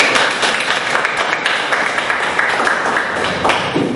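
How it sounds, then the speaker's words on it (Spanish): Audience applause for a speaker named Carlos at a Spanish-language talk on national reality, a steady, dense wash of clapping from a crowd that holds evenly throughout. "Fuertes aplausos para Carlos."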